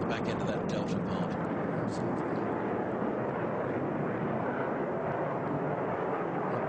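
A HAL Tejas delta-wing jet manoeuvring at an air show, a loud continuous roaring engine rumble that fills the whole stretch, with a commentator talking over it.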